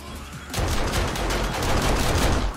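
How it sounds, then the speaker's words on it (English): Automatic turrets in 7 Days to Die open fire all at once, a sudden loud burst of rapid, continuous gunfire that goes on without pause, dense and booming at close range. "I haven't turned the turrets on yet. Actually, let's give them a go"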